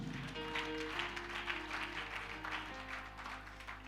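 Church congregation clapping in rhythmic bursts, faint and somewhat distant, under sustained keyboard chords and a steady low hum.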